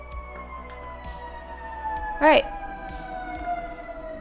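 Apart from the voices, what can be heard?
emergency vehicle sirens passing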